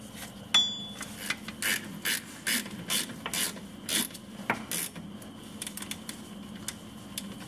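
Rapid ratchet clicks in several short bursts while bolts are run into a Jeep WJ hub bearing assembly, fairly close and fairly quiet over a low steady background hum, with no talking.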